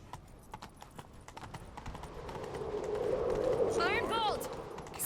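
A horse's hooves clip-clop at a gallop in the video game The Witcher 3: Wild Hunt, a quick rhythmic pattern that grows louder, with a brief whinny near the end over faint background voices.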